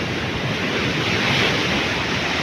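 Ocean waves at the South China Sea near Sulangan lighthouse surge in a loud, continuous roar mixed with wind buffeting the microphone, with no talking.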